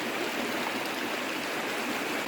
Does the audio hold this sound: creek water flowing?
yes